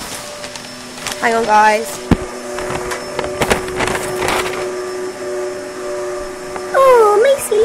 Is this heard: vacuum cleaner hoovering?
yes